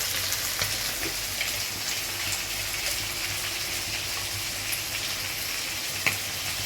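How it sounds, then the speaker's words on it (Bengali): Shrimp fry in a pan with a continuous crackling sizzle at an even, moderate level. A few small pops stand out, including one near the end, and there is no talking. "চিংড়ি মাছটা এবার ওর মধ্যে দিয়ে দিলে এবার ভাজা হবে"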